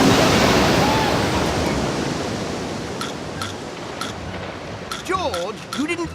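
Cartoon jungle flood effect: a loud, broad rush of water that swells at the start and gradually eases, with voices and whooping cries breaking in over the gushing near the end.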